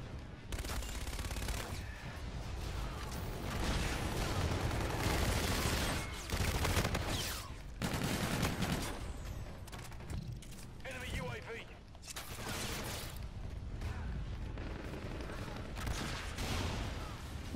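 Gunfire in a Call of Duty: Infinite Warfare free-for-all match, with dense bursts of rapid shots and repeated volleys running throughout, loud and close, while a player talks over it.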